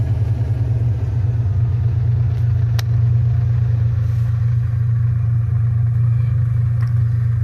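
An old 5-speed vehicle's engine idles steadily just after starting, a close, loud, even low rumble that holds without change.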